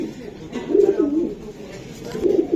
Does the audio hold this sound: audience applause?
no